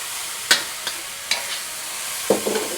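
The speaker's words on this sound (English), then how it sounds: "Let that sauce cook a little bit." Sauce for Thai holy basil beef fried rice cooking in a pan, giving a few short sizzling bursts and stirring scrapes spread over a steady low hiss, close and fairly quiet.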